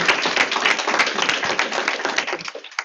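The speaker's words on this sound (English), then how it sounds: "Let's have a round of applause" A conference audience claps for current students at a 2023 alumni student panel, a dense crackle of many hands close and loud throughout, ending just as it thins.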